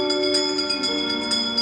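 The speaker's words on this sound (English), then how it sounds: "give us a hint by ringing a bell" A bell rings during the Haunted Mansion ride, a sustained metallic tone with soft repeated strikes shimmering over a steady hum.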